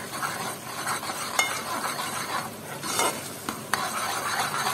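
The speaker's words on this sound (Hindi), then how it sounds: "बस अभी हमें इसके साथ अच्छे से भुनाई करनी है इसकी।" Cumin and salt roast in a pan while a spoon stirs them continuously, producing a close, busy scraping with a light sizzle and occasional sharp taps against the metal.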